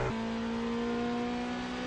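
A Corvette Z06 LMGT3 race car holds a loud, sustained engine note at high revs as it passes a Ferrari 296 in an FIA WEC race.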